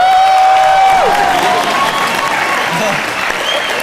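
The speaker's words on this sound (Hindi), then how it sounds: "चलिए हमारी नॉटी काजोल मैम के लिए जोरदार तालियां" A television comedy show audience breaks into loud applause, dense clapping that swells and holds steady, with scattered cheers mixed in and a voice briefly over the start.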